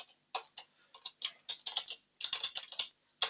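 Typing on a computer keyboard, a close series of quick, irregular key clicks in short bursts separated by brief pauses, heard alone.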